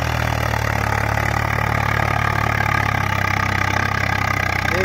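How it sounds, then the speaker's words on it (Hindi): Two Swaraj 855 tractors hauling sand near a river run steadily, a deep, constant diesel engine drone with a low throbbing hum, close and continuous with no talk. "दो ट्रैक्टर चल रहे हैं यहाँ पर,"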